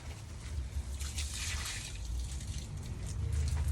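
Washed spinach drains in a bag as water trickles and drips out in a steady, soft, continuous patter close by, with no talking.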